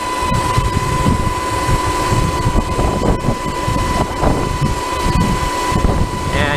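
Sur Ron Light Bee electric dirt bike with a 64-tooth rear sprocket held at full throttle while climbing a hill, giving a steady, thin motor whine under constant loud wind buffeting.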